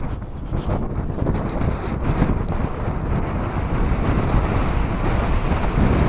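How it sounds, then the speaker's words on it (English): Strong, steady wind on a cliff edge buffeting the microphone, a continuous loud roar with gusty swells and no voices. "it is very windy indeed"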